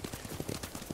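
A horse being ridden in the video game Ghost of Tsushima, rapid rhythmic hoofbeats, close and moderately loud.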